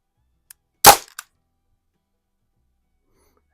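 A Crosman M1 carbine air rifle fires a single sharp, loud crack, followed a moment later by a faint tick as the pellet strikes a walnut and steel target, then near silence.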